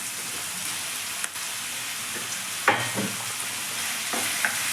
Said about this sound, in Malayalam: ഇനി നമുക്ക് ഇളക്കി കൊടുക്കാം.